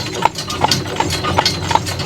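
A horse pulling a buggy clip-clops at a steady walking pace, five or six distinct hoofbeats evenly spaced against a low rumble of wheels, close and clear with no talking.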